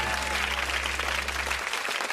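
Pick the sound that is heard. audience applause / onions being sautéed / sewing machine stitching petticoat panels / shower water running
audience applause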